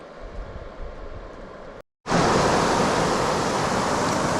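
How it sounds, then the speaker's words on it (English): A waterfall at the Cross Bay Lake campsite in the Boundary Waters roars as steady broadband rushing noise. It fills the clip alone and stays loud, with a brief dropout before the rush resumes even stronger. "Waterfall right there."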